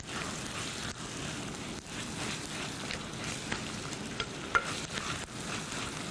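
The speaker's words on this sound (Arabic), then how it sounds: "ونقلب اللحمة" Meat frying with garlic and onion sizzles steadily in a pan while being stirred, with scraping stir strokes over a constant hiss and no talking.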